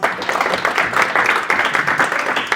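Audience applause at a small-business tech meetup, a steady wash of many hands clapping close and fairly loud for the whole stretch, with no voices standing out.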